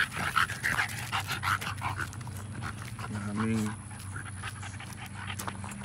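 Several dogs at a breeding yard pant rapidly and whine up close, with a brief high whimper midway, while someone talks over them.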